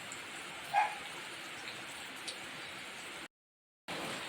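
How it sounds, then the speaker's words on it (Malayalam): Heavy rain falls as a steady, fairly faint hiss that carries on throughout, with one short louder sound near the start. "നല്ല മഴ."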